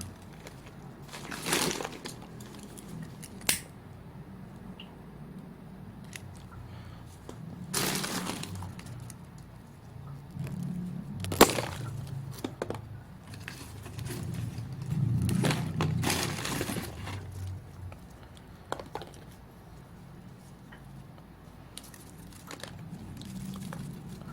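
An orchid offshoot twisted off the mother plant by hand, with scattered crackling and crinkling snaps of leaves and roots, close and irregular, several sharper bursts over a quiet background.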